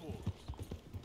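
Horse hooves clip-clop at a steady trot in Red Dead Redemption 2, a run of soft, low thuds. Game voices talk over the hoofbeats.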